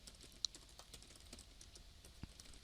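Quiet typing on a computer keyboard while CSS code is entered, scattered soft key clicks at an uneven pace with one sharper tap, faint and close.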